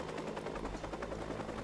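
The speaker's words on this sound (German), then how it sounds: "Du qualmst, lieber Helikopter." Helicopter in the video game Watch Dogs, a continuous rotor thrum with rhythmic chopping pulses and a steady engine drone, loud and close with no talk over it.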